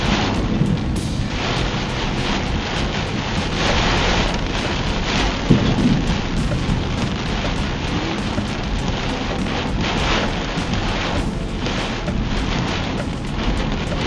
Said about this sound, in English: How heavy the rain is.